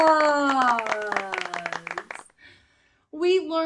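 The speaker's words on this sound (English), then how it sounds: "Give yourselves a round of" Quick clapping sounds mix with a bright, sung or spoken voice in a children's educational letter-learning program, then the sound drops to near silence before the voice returns.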